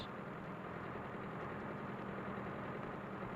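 A Ford 7000 tractor engine runs steadily as the machine is driven slowly forward, a continuous low, even drone with no talk over it.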